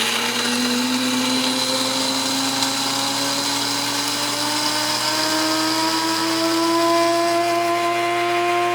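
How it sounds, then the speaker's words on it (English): A Cuisinart 12-cup Grind & Brew Plus coffee center grinds beans with a loud, continuous high-pitched motor whine that slowly rises in pitch, steady and close throughout. "it's done grinding, and now it's going to brew the coffee"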